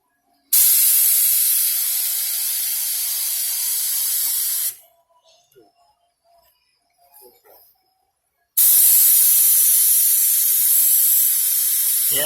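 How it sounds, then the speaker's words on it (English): A spray gun with a small tip lays thick primer onto a car bumper in two long, loud, steady hissing bursts, separated by a few seconds of near quiet with faint clinks. "the gun has a small tip on it, the primer's thick"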